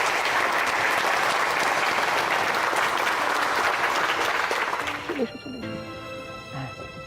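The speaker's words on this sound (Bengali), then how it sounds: "তাদের সকলের জন্য একটা জোরে হাততালি হয়ে যায়।" An audience bursts into loud, sustained applause for a group of children about to sing on stage in a Bengali TV serial, the clapping dense and continuous before fading as a music sting enters.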